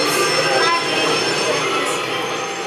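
Steel train wheels squeal steadily on the rails, a high continuous screech over rumbling carriage noise, with voices talking faintly underneath.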